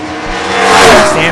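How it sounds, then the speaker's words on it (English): NHRA Factory Stock drag race cars launching at the U.S. Nationals, a loud swelling engine roar that builds and holds, with a commentator talking over it. "Just can't get Stephen Bell's car hooked up this weekend."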